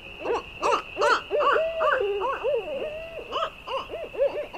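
Barred owl giving a series of rhythmic hooting calls, repeated deep hoots in quick bursts with a steady high tone running underneath, fairly close and clear with no talking.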